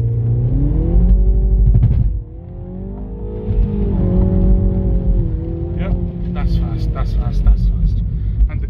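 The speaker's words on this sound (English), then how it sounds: "It's meant to do 0 to 60 in around 6 seconds, so we're gonna go do a little test of it now." A 2016 MINI Cooper S accelerates hard in a 0 to 60 run, its engine note climbing through the gears with a pause at a shift, loud and close from inside the cabin, with a voice briefly heard.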